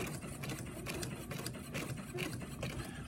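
A sewing machine stitches along a drawn line on paper, its steady mechanical whir running continuously at moderate volume with faint rhythmic needle ticks, no voices.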